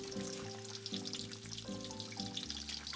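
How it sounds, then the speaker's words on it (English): Breaded pork tonkatsu deep-frying in hot oil, a dense continuous crackling sizzle with a steady hiss and no voices. "I deep fry it for 2 minutes."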